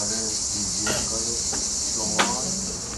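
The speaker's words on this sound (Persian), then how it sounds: "این صدای چیرچیرکاست." A constant shrill chorus of crickets fills Tilakenar forest in northern Iran, steady throughout, with a few brief nearby knocks and rustles over it.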